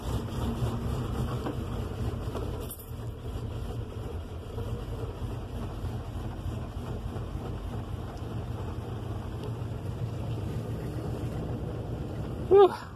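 1973 Dodge Titan motorhome engine idling rough, a steady low rumbling drone with uneven pulsing throughout, a brief dip early and a sharp burst near the end.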